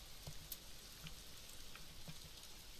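Rain falling in the video game AI: The Somnium Files, where a character stands under an umbrella: a steady, soft hiss of rainfall with faint scattered drop taps throughout.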